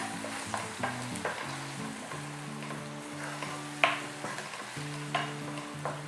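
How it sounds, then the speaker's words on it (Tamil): A chilli garlic mushroom sauce mix is stirred in a frying pan, with repeated close scrapes and taps over a soft sizzle and faint steady tones in the background, and no voices. "இதெல்லாத்தையும் நல்லா மிக்ஸ் பண்ணிக்கிறேன்."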